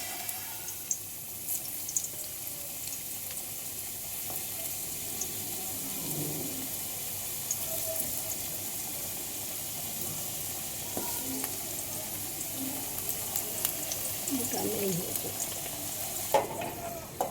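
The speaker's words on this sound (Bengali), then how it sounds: "সর্ষের তেল গরম হয়ে গেছে এখন দিয়ে দিচ্ছি আলু" Thick, long-cut potato sticks frying in hot mustard oil for a bitter gourd dish, giving a steady, moderate sizzle throughout with a few faint clinks and stirring sounds and no talk.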